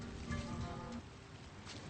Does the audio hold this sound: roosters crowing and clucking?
no